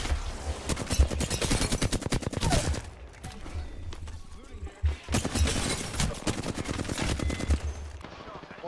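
Rapid automatic gunfire in Apex Legends comes in two long, loud rattling bursts separated by a quieter stretch with scattered shots, the player taking fire at close range.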